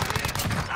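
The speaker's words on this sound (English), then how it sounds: "Is that him shooting at you" Rapid gunfire from a Call of Duty match, a dense burst of shots running continuously through the short moment, with a faint voice underneath.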